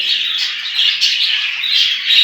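A dense mass of budgerigars in a home breeding aviary chatter and squawk continuously together, a busy, harsh, high-pitched, agitated flock sound close by.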